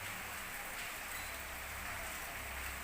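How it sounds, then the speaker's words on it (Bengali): Steady rain falls all day, a faint, continuous patter with no breaks or voices. "বৃষ্টি সারাদিন ধরে, সকাল থেকে বৃষ্টি চলছে।"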